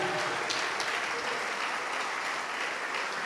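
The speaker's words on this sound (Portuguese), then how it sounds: "vamos aplaudir mais ao Senhor Jesus." A church congregation claps steadily in praise of Jesus during a worship service, a dense, sustained wash of many hands that stays loud and even from start to finish with no voices standing out.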